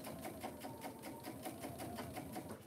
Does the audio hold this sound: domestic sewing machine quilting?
yes